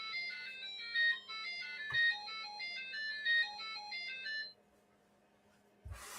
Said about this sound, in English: take a listen to what a JBL system sounds like with 9 speakers